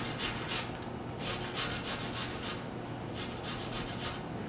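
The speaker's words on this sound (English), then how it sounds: "I'm just gonna grate the garlic on here because I don't feel like getting a cutting board out" Garlic is grated on a small lid, giving a quiet, steady rasping scrape in quick repeated strokes, close up and faint, with no voices.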